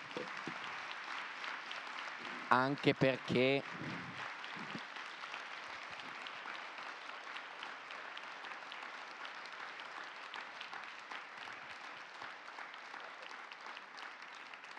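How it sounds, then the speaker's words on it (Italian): An audience applauds the speakers at a public talk on news and world affairs, broad sustained clapping filling the room for the whole stretch while someone briefly speaks over it near the start. "io farei un applauso ai nostri relatori"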